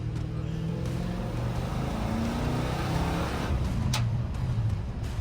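A 1979 Ford F150 pickup truck engine rumbles and builds steadily over several seconds, rising in pitch as it accelerates nearby.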